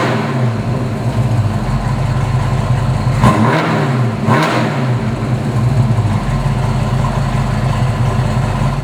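A 1965 Shelby Mustang GT350 engine idles loudly up close with a heavy, steady rumble, broken by two sharp throttle blips that rise and fall in pitch before it settles back to idle.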